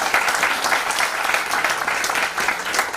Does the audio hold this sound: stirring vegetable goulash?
no